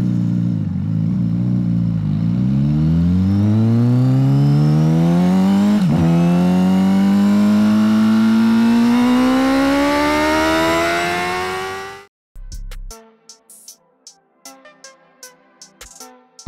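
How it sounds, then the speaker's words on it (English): Honda CBR600RR 2024 sport bike with a four-cylinder engine and underseat exhaust revs loudly in a long, steady rising sweep for about twelve seconds, then cuts off abruptly, leaving faint clicks and clatter. "The bike has a unique underseat exhaust that gives it a distinctive look and sound."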